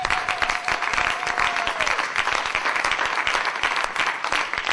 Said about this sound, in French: Est-ce que nous pouvons acclamer le Seigneur?